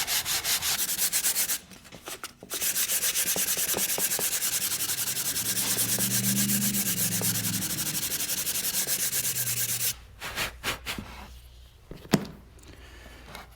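Sandpaper rubs back and forth by hand over a wooden horse-drawn coach part in a carriage shop, a loud close rasping scrape that holds steady for several seconds before stopping, followed by a few light knocks.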